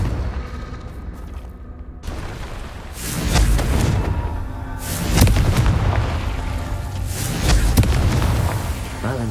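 A Confringo fire spell bursting in the video game Hogwarts Legacy, a series of deep booming explosions rolling in waves, loud and close, with some speech mixed in.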